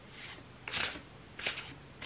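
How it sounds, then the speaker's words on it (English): A light shuffle of a tarot card deck, with brief riffling bursts repeated three times at a near, soft level against a quiet room. "I'm actually going to give it a light shuffle first"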